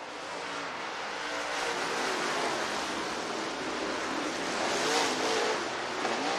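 Late model race cars lapping Ogilvie Raceway during the opening lap of a heat race, a broad continuous engine roar that swells and fades as the pack passes at a distance.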